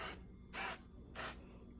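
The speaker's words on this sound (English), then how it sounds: "I just use a little bit of my cooking spray" Three short hissing bursts of cooking spray onto salmon before air frying, close and fairly quiet, spaced about half a second apart.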